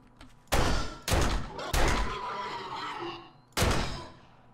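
Four sharp, loud gunshots in the survival video game 7 Days to Die, fired at an uneven pace with the last after a longer pause, each crack ringing out briefly against a quiet backdrop.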